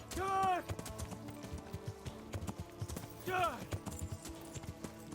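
A horse gallops in Kingdom Come: Deliverance, its rhythmic hoofbeats clopping steadily and mixed with a couple of whinny-like cries, with a person talking over the action.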